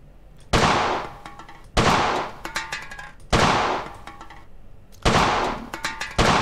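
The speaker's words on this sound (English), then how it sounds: "So you just gotta shoot a bunch of cans, but the cans are pretty big targets at a pretty close range" Colt 1911 pistol fired at tin cans on a shooting range in the game World of Guns, four sharp, loud shots spaced about a second apart, each followed by metallic pings and clatter from the struck cans.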